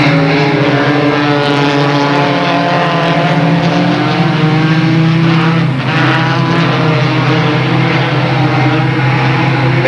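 A pack of race cars roars together at Delta Speedway in 1996, a loud, sustained engine drone with layered rising and falling pitches as the field comes to green, heard from near trackside.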